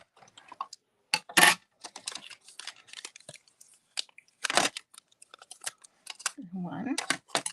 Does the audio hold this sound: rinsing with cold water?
no